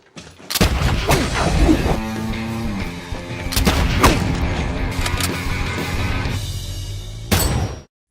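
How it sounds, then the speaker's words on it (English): Movie action scene of a house being showered with gunfire and hit by a lobbed grenade: dense bursts of shots, crashes and booms with swelling music, loud and chaotic, ending in a sharp final blast. "His house was showered with bullets, and the attackers even lobbed a grenade in an attempt to eliminate him."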